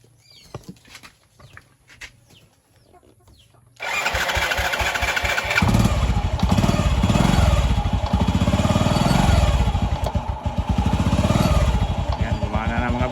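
A Honda XRM110 motorcycle started without the key: a few faint clicks and rattles, then the engine catches suddenly and settles into a loud, close, steady idle with rising revs.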